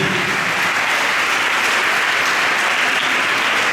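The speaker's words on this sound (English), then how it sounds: "let us give them a big round of applause" Loud, dense applause from a school audience after a debate, a continuous roar of many hands clapping at even strength throughout, with no speech over it.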